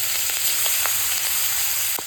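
Katla fish pieces frying in hot oil, a steady close sizzle running unbroken throughout with small crackling pops.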